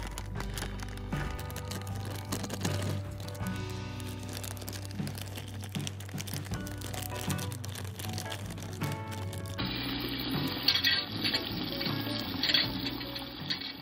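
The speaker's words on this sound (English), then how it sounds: "I put it in the sink to remove any of the excess material and carefully brush it off with an old toothbrush" Running tap water splashes over a stripped 1:43 scale Ferrari 360 Modena Spider model car body in a sink, with crinkling handling and scrubbing sounds, steady and close, growing hissier near the end.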